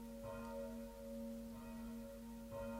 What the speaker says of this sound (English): I have these bells every 15 minutes.